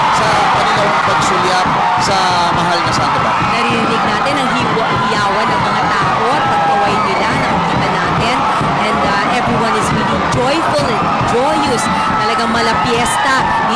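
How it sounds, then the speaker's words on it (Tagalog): A large crowd roars and cheers continuously at Pope Francis's arrival in the Philippines, a loud, dense wash of shouting voices that never lets up. "Naririnig natin ang hiyawan ng mga tao"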